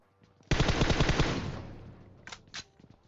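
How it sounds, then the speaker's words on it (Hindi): An M4 rifle in the mobile game PUBG Mobile fires one rapid automatic burst of closely spaced, punchy shots that fades out, followed by two brief quieter reports. "मैंने M4 चला दिया है"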